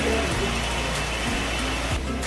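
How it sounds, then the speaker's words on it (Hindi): Heavy rain in Nainital, a dense steady hiss of downpour beating on surfaces close by, loud and unbroken through the short stretch. "यहाँ पर वैसी इतनी ज़्यादा बारिश हो रही है"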